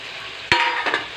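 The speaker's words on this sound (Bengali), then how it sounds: "এরপর মশলা কষানো হয়ে গেল, এবার কচু আলু সবগুলো দিয়ে দিলাম" Taro and potatoes are stir-fried with spices in hot oil. A sharp spatula scrape cuts through a quiet sizzle, then the frying grows louder and a second, softer scrape follows.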